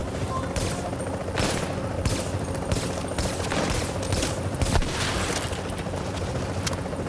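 Bursts of rapid gunfire in a shooter game firefight against a sniper in The Division, sharp repeated cracks in clusters over a constant backdrop of combat noise, loud and close.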